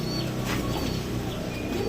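Pigeons coo steadily and close by, soft throaty calls overlapping with no pause, with no voices present.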